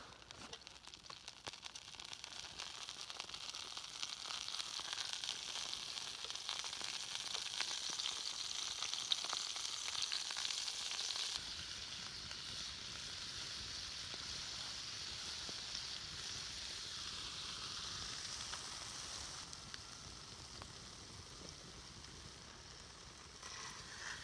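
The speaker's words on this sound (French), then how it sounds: "j'ai allumé un petit feu là pour la faire cuire maintenant et pour la conserver plus longtemps quoi" Meat cooking over a small campfire in the Yukon wilderness, a steady soft crackling sizzle lasting throughout, quiet and close, with a brief shift in texture partway through and no voices.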